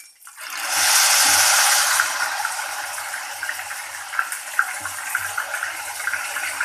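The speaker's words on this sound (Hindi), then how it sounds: "मैं कड़छी से डाल रही हूँ," Ghewar batter ladled into hot oil in a pan, a loud, steady hissing rush of frying that starts abruptly and then settles into continuous crackle and sputter, with no voices.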